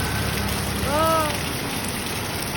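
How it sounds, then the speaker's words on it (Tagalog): Heavy rain keeps up a loud, constant wash of noise, broken near the middle by a brief rising and falling high tonal call. "super lakas ng ulan."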